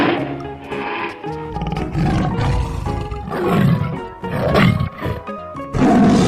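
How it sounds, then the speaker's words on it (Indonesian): A toy tiger gives out a loud, recorded roar, several long growling roars in a row with short breaks between them, close and clear. "Wah, yang ini ada harimau, teman-teman. Wah, kita masukkan harimau."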